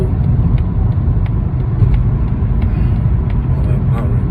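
Steady low road rumble from inside a moving Mazda 3 rental car, continuous engine and tyre drone filling the whole stretch at a constant level with no pauses.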